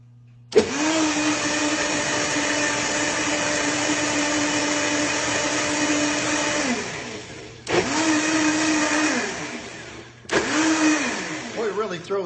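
A WOQI commercial high-speed smoothie blender runs loudly in long whirring bursts: a sustained roar of about seven seconds, then two shorter pulses, each starting abruptly and winding down.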